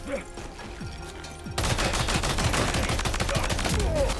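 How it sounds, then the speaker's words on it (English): Machine gun fire in the video game Death Stranding 2 breaks out after a quieter stretch, a loud rapid burst of shots that keeps going without pause to the end. "Machine gun."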